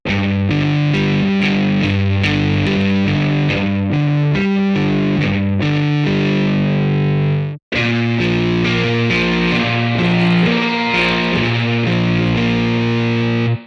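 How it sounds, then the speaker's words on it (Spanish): Electric guitar is played through a free high-gain amplifier simulator plugin, giving thick distorted chords and riffs that ring loud and continuous, briefly cutting out before resuming. "con el modo de ganancia alta podemos controlar el tono del drive para que sea más oscuro o más brillante"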